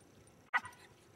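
A dog barks once at fish near water, a single short sharp bark that stands clearly above quiet outdoor background.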